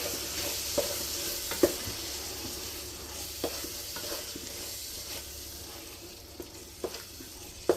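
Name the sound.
thick yogurt being mixed into biryani masala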